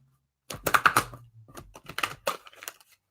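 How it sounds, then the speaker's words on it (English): Quick flurries of sharp, crisp snaps and riffles as a deck of cards is shuffled up close, in two short bursts after a brief silence. "Let me go ahead and shuffle this deck."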